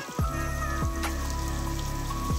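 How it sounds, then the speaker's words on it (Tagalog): Steady heavy rain drums down on a surface during windy, thundery weather, a dense continuous patter with a few sharper drips, close and fairly loud. "And ngayon biglang bumuhos ang ulan."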